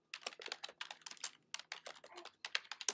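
Rapid keystrokes on a computer keyboard, close and fairly quiet, coming in quick bursts with short pauses between them while an email is written.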